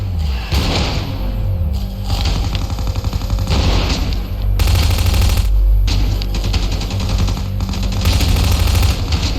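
Gunfire in the video game Ravenfield: loud, rapid automatic bursts and repeated shots with heavy thumps, coming in dense stretches separated by short breaks.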